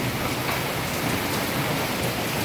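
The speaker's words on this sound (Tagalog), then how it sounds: "inaabutan kami ng ulan" Steady rain falls outdoors at a building site where Sunlite Jazz and twin-wall polycarbonate roofing is being finished, a dense, even hiss of drops hitting surfaces that continues without a break.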